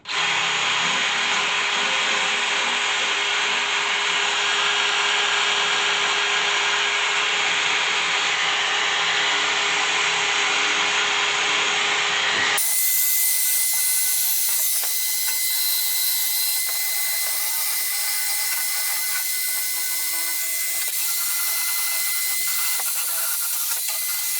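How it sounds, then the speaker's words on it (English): A power drill with a wire brush runs continuously, grinding harshly and scratchily against a cast metal garden bench part, loud and close. Partway through the pitch and texture shift abruptly. "Just taking a wire brush and a drill."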